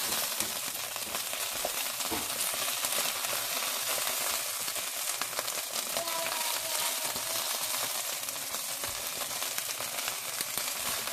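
Homemade turkey breakfast sausage sizzles continuously in a pan, a dense, even crackle close by, holding steady throughout with no voices.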